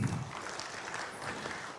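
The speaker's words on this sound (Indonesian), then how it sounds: "Tepuk tangan untuk Polri." A crowd applauds for the Indonesian police, a steady wash of many hands clapping, moderately distant and fairly faint, brief.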